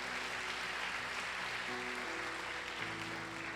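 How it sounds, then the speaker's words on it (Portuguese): A church congregation applauds during a family service, a dense, even roar of clapping that fills the whole stretch, with music tones sustained underneath. "Você pode aplaudir bem forte o Senhor em nome de Jesus?"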